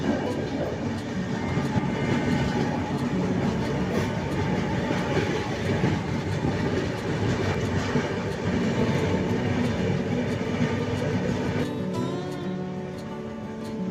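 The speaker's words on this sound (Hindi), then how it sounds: "अब यह ट्रेन अपना पहला हॉल्ट पाटलिपुत्र जंक्शन पहुंच रही है।" The Danapur Jaynagar intercity express rolls into Pataliputra Junction, a steady loud rumble of railcars with rhythmic wheel clatter on the rails and a brief metallic squeal near the end as it slows.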